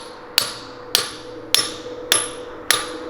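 A hammer taps the threaded end of a bolt while a pit is being prepped for an AWD dyno, making five sharp evenly spaced metallic strikes about half a second apart, close by with no talking.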